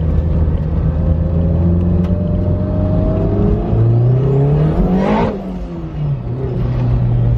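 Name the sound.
Toyota MR2 turbo engine accelerating, turbo noises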